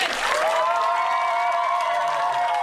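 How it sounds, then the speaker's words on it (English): Applause at a summer camp for a visiting magician comes as a steady, dense wash of clapping throughout, with a crowd tone, some cheering and a sustained tonal voice or whistle riding over it. "Big round of applause for magician Brian Clint"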